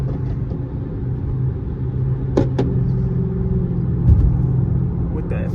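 Dodge Hellcat and Scat Pack muscle cars driving fast through traffic, a steady close engine rumble and road roar with a couple of sharp transient knocks, no clear revving peaks.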